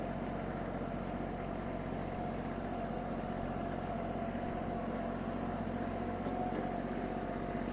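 A Kubota GL32 tractor's engine rumbles steadily as the tractor turns almost on the spot, a continuous low, noisy drone at moderate level without speech.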